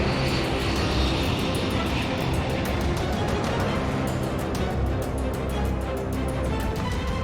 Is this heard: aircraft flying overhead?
yes